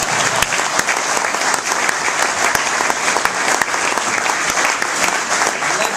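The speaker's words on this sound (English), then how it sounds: "You can clap now." Rotary club audience in Gilroy claps steadily for a speaker, a dense, loud, continuous wash of many hands lasting several seconds without talk.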